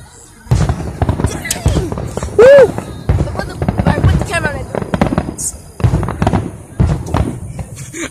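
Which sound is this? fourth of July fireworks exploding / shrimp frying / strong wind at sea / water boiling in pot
fourth of July fireworks exploding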